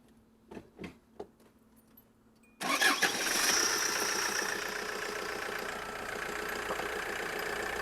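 A diesel car engine cranks with a few short bursts, then catches and settles into a loud, steady idle with a rough, knocking mid-range rumble, heard alone without talk.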